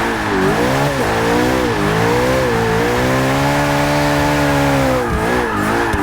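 Mid-engine car in the Forza 6 racing game revving hard while drifting, the engine note rising and falling in long sustained sweeps with tire squeal underneath, loud and continuous throughout with no talking.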